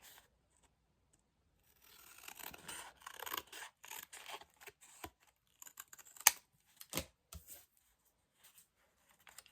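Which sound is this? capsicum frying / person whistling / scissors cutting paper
scissors cutting paper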